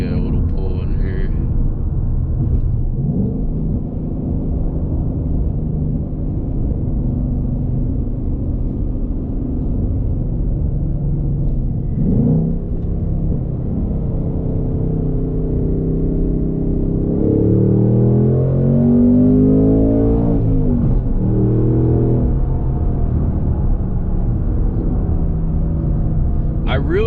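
A 2026 Ford Mustang GT engine accelerates from inside the car, a low droning rumble that climbs into a rising rev partway through, with a person talking over it.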